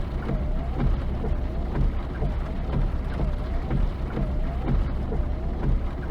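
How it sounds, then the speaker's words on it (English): Heavy rain in Final Fantasy VII pours steadily as a dense, continuous wash with low rumbling underneath and faint repeating patter, loud and unbroken throughout. "Sure is raining hard."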